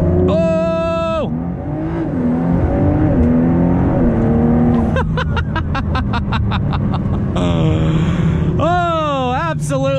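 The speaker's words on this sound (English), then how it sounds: "Let's go ahead and hit it with another launch." A 2019 or 2006 Ford GT launches hard, its engine and exhaust roaring with a burst of rapid revving pulses midway, while excited voices and exclamations run over the top.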